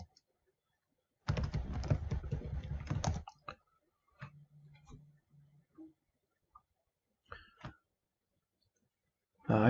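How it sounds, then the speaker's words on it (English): A password is typed on a computer keyboard in a dense, rapid burst of clicking keys lasting a couple of seconds, followed by sparse isolated clicks and a faint hum in a quiet room. "And type the password."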